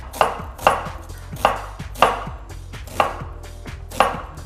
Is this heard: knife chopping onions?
yes